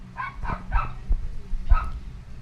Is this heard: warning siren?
no